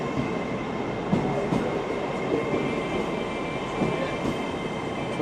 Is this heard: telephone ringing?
no